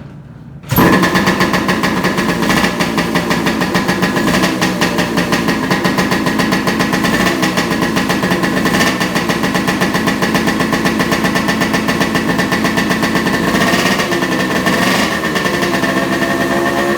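A 1970 Kawasaki Sidewinder engine fires up on gasoline for the first time after sitting, catching abruptly and settling into a loud, rapid, steady rattling run close by that keeps going to the end.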